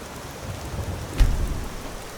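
Rain in the video game Skyrim, a steady heavy wash of rainfall with a low rumble of thunder swelling briefly midway, close and loud with no talking.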